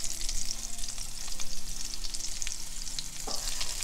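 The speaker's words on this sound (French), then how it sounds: "Pour réaliser une bonne cuisson d'escalope de foie gras poêlée, donc escalope très froide, assaisonnée, légèrement farinée, dans une poêle chaude" Foie gras escalope, seasoned and lightly floured, sizzles steadily in a hot pan, a loud continuous crackling fry with no pauses from start to end.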